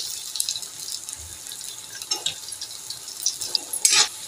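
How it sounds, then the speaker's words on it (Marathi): Chopped onion goes into hot oil with mustard seeds, cumin and garlic for a jackfruit curry, a soft continuous hiss broken by scattered crackles and small bursts of spattering that grow busier toward the end. "कापून घेतलेला कांदा टाकूया."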